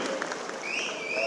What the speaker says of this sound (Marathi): त्यांचं टाळ्या वाजवून स्वागत करणं गरजेचं आहे